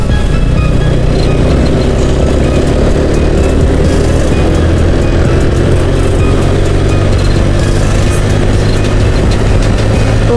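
A truck passes on a road in Sta. Barbara, Pangasinan, giving a steady, loud, broad engine rumble and road roar that lasts throughout without pause.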